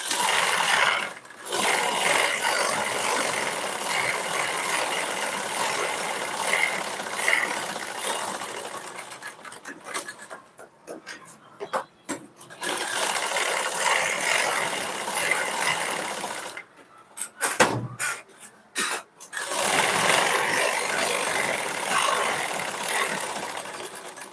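Up close, a sewing machine stitches the side seam of a blouse, running in a loud, steady whirring rattle, with brief stops and restarts near the middle and again toward the end.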